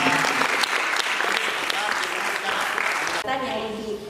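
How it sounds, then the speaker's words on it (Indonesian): An audience at a scout forum gathering applauds, a full, loud round of clapping for about three seconds before it gives way to chatter and a voice. "tepuk tangan lagi"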